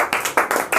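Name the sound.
class clapping hands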